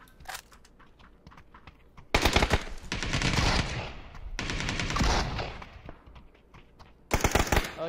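Gunfire in the PUBG video game, a few scattered shots and then long bursts of rapid automatic fire, loud and close, breaking off and starting again, with no talk over them.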